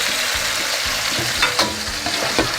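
Beef shank chunks for kare-kare drop into a hot pan with onions, giving a steady close sizzle and frying hiss with a few stirring scrapes and small bursts of crackle.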